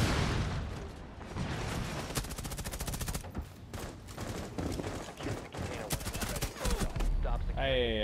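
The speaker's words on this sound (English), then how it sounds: "I got rid of that window too with the grenade." Gunfire and a grenade blast in the tactical shooter Rainbow Six Siege: dense, loud bursts of rapid shots and booms roll on almost without pause, with voices talking faintly underneath.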